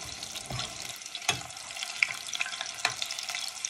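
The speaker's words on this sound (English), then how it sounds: "as I'm frying okra, I start to eat okra" Okra fries in a pan with a close, continuous sizzle, broken by a few sharper crackles and stirring scrapes, and no voices.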